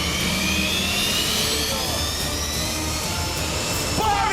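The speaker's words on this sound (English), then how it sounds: "The jet car is about to take off on its quarter-mile run, hitting speeds of 130 miles per hour." A jet car starting its quarter-mile run toward 130 mph, its engine a loud, steady roar with a rising whine that holds throughout and surges near the end.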